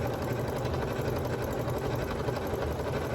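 A sewing machine runs steadily through a decorative stitch on a rag quilt, a continuous close mechanical whir with a low motor hum and no pauses.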